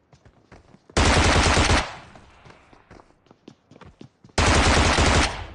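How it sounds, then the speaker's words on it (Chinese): Automatic weapon fire in a shooter video game, two loud sustained bursts about a second each, separated by a brief quieter gap with light clicks and steps. "枪声将敌人的注意力吸引"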